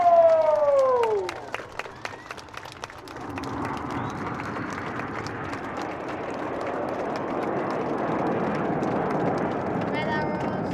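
RAF Red Arrows aerobatic jets roar overhead at an airshow, a broad continuous rumble that swells steadily, following a commentator's announcement over a crowd.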